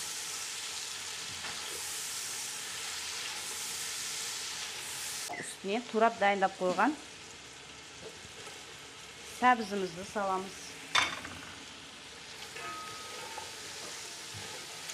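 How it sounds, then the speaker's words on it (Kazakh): Chopped onions fry in a pan for a flour kuyrdak, giving a steady hiss with stirring while someone talks over it in the middle. "Туралған пиязымызды салып, жақсылап араластырып, 1-2 минутта қуырамыз."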